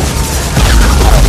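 Deep booming gunfire and explosions from the 1998 war film The Thin Red Line, a loud continuous barrage of heavy rumbling bursts that swells in the second half.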